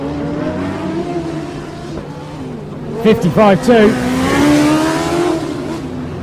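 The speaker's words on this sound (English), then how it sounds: "Car number 1 comes through, they cross the line." A Formula Student race car crosses the finish line in an endurance final, its engine note rising and sweeping past loud and close with a brief tire squeal while a commentator talks throughout.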